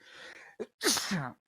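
One person sneezes close to the microphone on a live radio talk show, a short sharp intake of breath followed by a loud burst.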